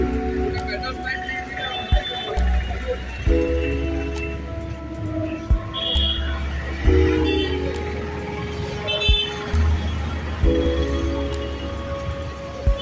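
Car horns honk in several sustained blasts on a busy street near Puri beach, mixed with traffic rumble and a person talking over the noise.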